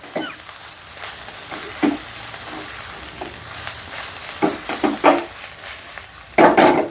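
Jeera rice with cumin and garlic tossed quickly in a hot pan, a steady close sizzle broken by scraping stirs and short clinks of a spatula against metal.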